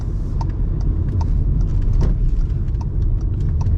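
A Volkswagen Taigun GT Plus driving at around 50 km/h gives a steady low road and engine rumble from inside the cabin, with faint light ticking sounds over it.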